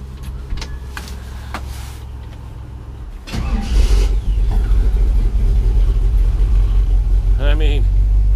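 A 1949 Chevrolet 3100 five-window pickup truck's engine cranks briefly and then catches, settling into a loud, steady idle close by after a few seconds of quieter clicks and rustles.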